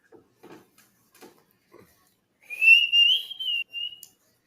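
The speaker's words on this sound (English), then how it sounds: "Me whistling there is me trying to keep my mouth shut." A person whistles a short sustained tune of a few drawn-out notes, clear and close, following a handful of soft scattered knocks and rustles in an otherwise quiet room.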